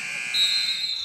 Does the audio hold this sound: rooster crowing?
no